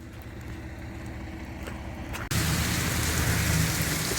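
Heavy rain pours onto the town square in Mountain View, Arkansas, a dense, even hiss that abruptly jumps much louder partway through as the downpour intensifies or shelter is left behind.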